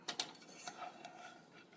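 A spoon clinks and scrapes inside a pot while potatoes, turmeric, chilies and onions are stirred, a few sharp metallic taps followed by softer scraping, quiet and close with no speech.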